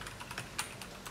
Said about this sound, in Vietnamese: Về cảm giác gõ ở trên bàn phím này thì mình đánh giá nó là khá tốt, tương đối tốt.